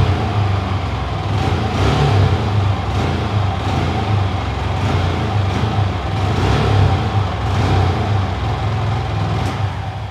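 A Yamaha R15 motorcycle engine runs at full throttle with a misfire, giving a loud, steady roar broken by faint rhythmic stumbles as the revs dip.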